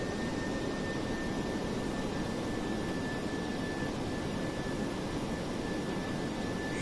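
A McDonnell Douglas DC-8-73F freighter's jet engines roar in Flight Simulator X, a dense, unbroken, loud whoosh with a thin steady whine riding on top and no voices.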